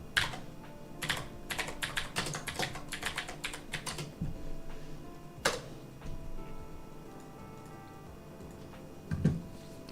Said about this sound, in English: I'll type it in here.